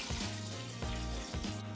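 Water pours steadily into a soup pot of roasted vegetables and veggie stock, a continuous splashing rush that runs loud and unbroken throughout with no talking.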